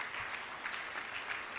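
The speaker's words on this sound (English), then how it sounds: "May I have a round of applause for Honorable Justice" An audience at a formal annual lecture claps in a brief, even burst of applause, continuous and moderately loud with no speech over it.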